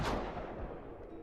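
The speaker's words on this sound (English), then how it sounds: "It sounded like the cannons were cracking into the building directly, bursting through the walls." Cannon fire in the game Hakuoki: Kyoto Winds strikes a building, a single heavy booming impact with a broad crash that decays over about a second.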